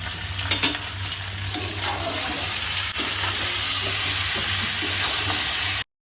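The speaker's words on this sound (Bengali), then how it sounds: "বোন এখানে আলুর দমটা বসিয়ে দিয়েছে, এখন চলছে আলুর দমটাকে কষানো।" Aloo dum potatoes fry in a pan, a steady, close sizzle broken by scraping stirs and occasional clinks before cutting off abruptly near the end, with no talking.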